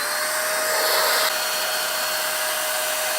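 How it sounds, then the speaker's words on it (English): An electric dust blaster pushes out a loud, steady whine of rushing air at close range, with a brief shift in pitch partway through, and no talking. "I have this awesome dust blaster."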